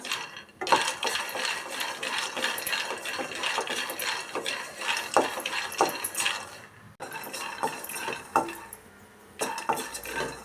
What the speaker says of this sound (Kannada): ಕಡಲೆ ಬೀಜನ ಚೆನ್ನಾಗಿ ಕಡಿಮೆ ಉರಿ ಇಟ್ಕೊಂಡು ಹುರ್ಕೊಳ್ಳೋಣ